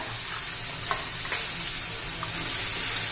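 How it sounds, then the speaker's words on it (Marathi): A ground masala of coconut, ginger, garlic, coriander and tomato sautés in hot oil for a fish curry, giving a steady, close sizzle with a few faint stirring scrapes. "हा वाटून घेतलेला मसाला घालून घेऊया खोबरं आलं लसूण कोथिंबीर आणि टोमॅटो आता आपण आज तेलामध्ये छानपैकी असं परतून घेऊया"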